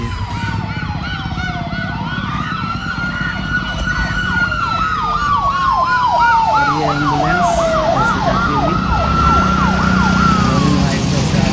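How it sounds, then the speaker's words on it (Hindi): Loud wailing ambulance sirens rise and fall repeatedly, overlapping one another as emergency vehicles pass close by amid road traffic. "एम्बुलेंस"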